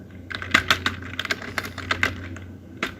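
Close typing on a computer keyboard for Cisco Packet Tracer commands, a quick irregular run of crisp key clicks with brief pauses, alone without talk.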